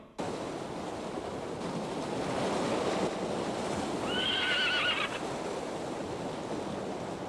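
Horses whinny over steady surf and wind on a coastline, with a short, clear neigh standing out midway above the constant roar of waves.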